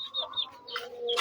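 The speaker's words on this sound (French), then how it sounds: "vous allez voir que il y a aussi des petits dindons là qu'on a acquis." Young turkeys, about ten of them, give brief high chirping peeps and soft clucks close by in a short, busy burst.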